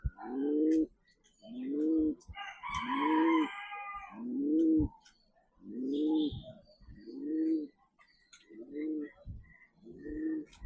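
Pigeons coo at an outdoor bird park, with about eight deep, rounded coos in a steady rhythm, close and clear, plus a brief burst of higher chirping from another bird partway through.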